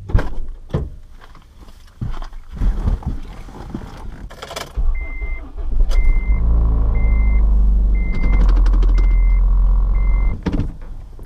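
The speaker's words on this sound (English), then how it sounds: "we're gonna take it for a test drive and see how she rolls" Acura RSX on a test drive after having its wheels balanced: clunks and handling noises first, then a steady loud engine drone with a beep tone repeating about once a second.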